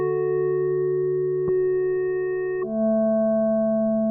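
A sustained synthesizer tone holds steady with layered harmonics, shifting to a new pitch partway through and carrying a subtle pulsing in its level from an LFO modulating oscillator B's volume.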